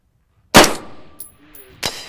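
A gunshot at a shooting range: one sharp, loud crack with a ringing metallic clang off a steel target, a brief trailing tone, then a second sharp report near the end.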